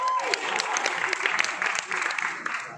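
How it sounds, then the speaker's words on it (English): Audience applause for Henry Cavill at a Manila event for The Witcher, a full, steady crowd clapping with some voices mixed into the noise. "Give a round of applause"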